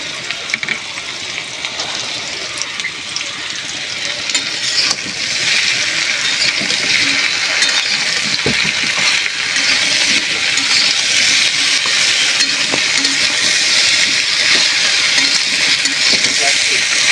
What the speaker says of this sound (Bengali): মাছটা আমার ভাজা হয়ে গেছে ভালো করে, আমি এবার দিয়ে দেবো কেটে রাখা বেগুনগুলো।